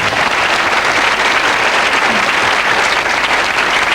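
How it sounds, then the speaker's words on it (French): Loud, sustained audience applause in a French television studio debate, a thick continuous wash of many hands clapping at close range with no talk over it. "On applaudit."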